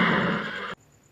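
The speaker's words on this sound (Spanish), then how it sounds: "el caballo relinchó" A horse neighs once in a loud, bright whinny that cuts off abruptly, leaving near silence with a faint high tone behind it.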